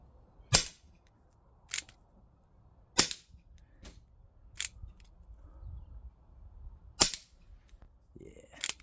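Six sharp, close pops ring out at uneven intervals with quiet between them, shots from an Umarex Colt Single Action Army .177 pellet air revolver aimed at a plastic bottle.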